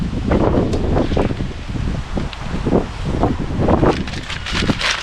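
Gusty wind blowing outdoors in Scotland, roaring and buffeting a nearby microphone in uneven surges with rustling, steady and loud throughout with no talking.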